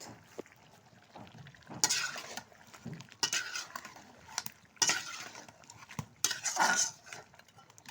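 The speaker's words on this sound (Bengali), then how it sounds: "তাদের জন্য এই যে গরুর মাংস রান্না হচ্ছে।" Beef curry cooking in a pot on an outdoor courtyard stove in bright sun, with metal spoon scrapes and clinks against the pot in irregular bursts over a low sizzle, close by.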